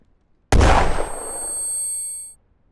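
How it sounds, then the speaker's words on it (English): A flashbang-like grenade goes off in the tactical FPS game Direct Contact: one sudden loud blast with a sharp attack, followed by a bright metallic ringing tail that fades over about two seconds. "Sounded like a flashbang."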